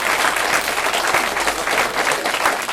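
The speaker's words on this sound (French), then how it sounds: "On peut les applaudir." An audience at a comic-book event claps together, a close, lively patter of hands with a slightly pulsing rhythm that keeps going throughout the brief burst.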